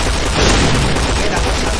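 Dense, loud Dragunov sniper rifle fire in the shooter game Point Blank, a continuous harsh wall of gunfire noise filling the short moment with no talk.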